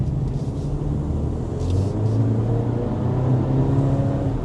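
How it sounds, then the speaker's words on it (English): A 2026 BMW X3's 2-liter turbocharged four-cylinder hybrid engine pulls under acceleration, a steady loud low rumble and drone heard from inside the vehicle, with no talking. "So this is a 2-liter turbocharged 4-cylinder engine."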